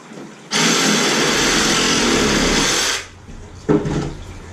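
A power tool trims a plastic boarding crate for a kayak fishing setup, one loud steady whine running about two and a half seconds, then stopping, followed by a short bump and rattle of handling.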